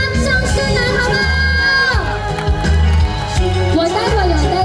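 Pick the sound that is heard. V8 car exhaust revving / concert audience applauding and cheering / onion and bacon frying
concert audience applauding and cheering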